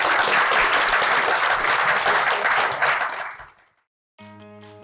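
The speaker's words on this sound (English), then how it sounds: "let's everyone give the panelists a big round of applause" A podcast panel audience applauding loudly, the clapping dense and sustained, then fading out into silence before a short musical tone begins.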